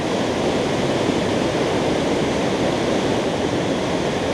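White River Falls in Eastern Oregon roars in a steady, dense rush of falling water. The sound is loud and unbroken, with no voices over it.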